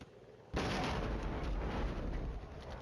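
Soviet artillery pounding the edge of a town in the war game Flashpoint Campaigns Red Storm, an abrupt loud blast that gives way to a continuous heavy roar of shelling, with no voices.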